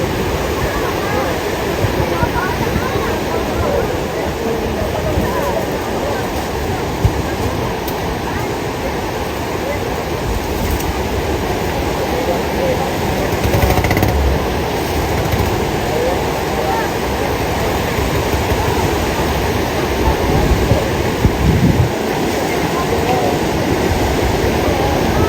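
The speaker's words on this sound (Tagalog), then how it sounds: "Lakas po ng alon." Strong sea waves roar continuously near a beach at Tarum, a dense, steady wash of surf that stays loud for the whole stretch, with voices faintly mixed in.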